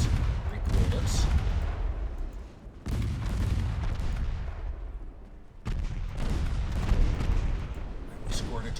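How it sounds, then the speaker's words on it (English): Torpedo hits on an enemy warship in the naval game Ultimate Admiral Dreadnoughts sound as three heavy booming detonations, each followed by a long rumbling roar and crackle, loud and close. "And we scored a torpedo hits on the enemy."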